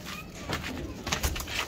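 A pigeon's soft cooing outdoors among loose flocking pigeons, brief and low, with faint rustling and background noise.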